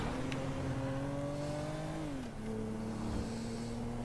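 A car engine in GTA V driving steadily with a sustained hum that dips and shifts as it changes speed, close and continuous.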